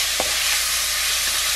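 Meat frying in a hot induction pan for egg foo young aboard a boat, a steady dense sizzle throughout with one brief stir or clink near the start.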